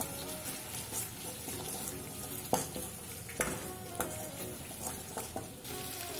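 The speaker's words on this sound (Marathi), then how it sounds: "आता ह्यामध्ये मी मीठ घालते आणि पुन्हा परतून घेणार आहे" Onion and tomato with salt and turmeric sauté in a pan while being stirred, a soft background sizzle broken by several sharp scrapes and taps of a spoon against the pan, quiet and close.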